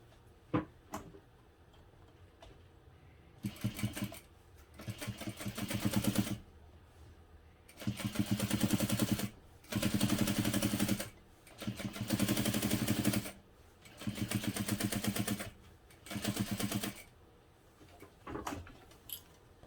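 A sewing machine stitches the bottom panel of a hobo bag, running in several rapid, loud bursts of whirring and clacking separated by brief pauses and a few soft handling clicks.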